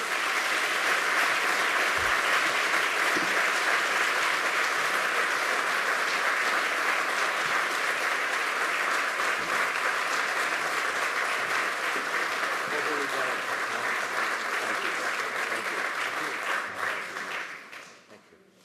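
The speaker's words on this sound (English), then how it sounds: "Please join me in applauding Mr. Fred Yutangsu." Sustained audience applause at an award ceremony, broad and even, holding steady for many seconds before fading out at the end.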